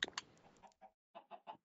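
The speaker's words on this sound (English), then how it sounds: "I can hear the chickens." Chickens clucking in Minecraft survival, a run of short, close clucks in quick bursts with brief silent gaps between them.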